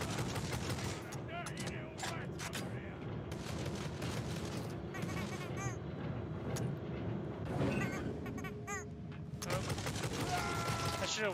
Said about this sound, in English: And then you just shoot them one at a time.